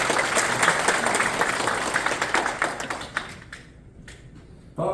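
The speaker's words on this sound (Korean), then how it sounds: "큰 박수 부탁드립니다" Audience applause at a Korean memorial society ceremony as a justice minister is introduced, a dense burst of clapping that thins out and fades near the end.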